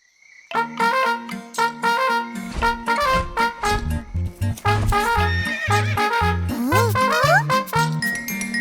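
A horse whinnies and hooves clip-clop with jingling bells inside a bright, bouncy Hindi children's rhyme, the neigh riding over a busy musical backing.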